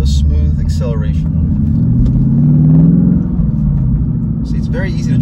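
Mustang RS3 Phase 2 with a 6-speed manual pulling away in a smooth acceleration, a deep engine rumble rising in pitch and fading back, with a voice talking at the start and end.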